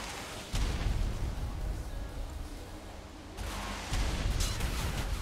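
A heavy turret fires ammunition in the video game Ark, heard as loud, booming artillery-like blasts with rumbling low-end bursts that kick in and repeat, without speech.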